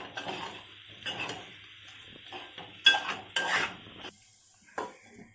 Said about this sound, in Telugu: బాగా కలుపుకొని ఒక 5 నిమిషాలు మగ్గనివ్వాలి కూరని.